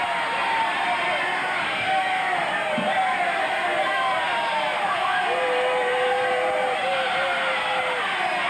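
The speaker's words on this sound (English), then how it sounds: "Crowd yelling that hair was pulled." Steady roar of a Portland wrestling arena crowd yelling and jeering throughout, continuous and dense, with a commentator talking over it.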